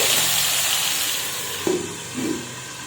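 Mushrooms and spices frying in a pan give off a steady, soft sizzling hiss, broken by a couple of brief utensil clinks near the end.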